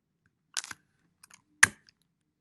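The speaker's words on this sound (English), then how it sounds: "I'm using tape, and I'm going to tape the two pages together." Tape is applied to join two paper pages: two short, sharp tearing and sticking crackles about a second apart, with faint handling in between and otherwise near silence.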